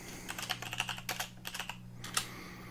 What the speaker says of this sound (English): on my keyboard I'll hit home and then just hit delete